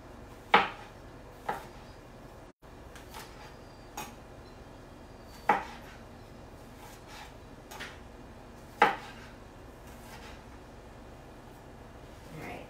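A knife slices garlic on a cutting board, giving a handful of sharp, separate taps spaced a second or more apart over a quiet room background.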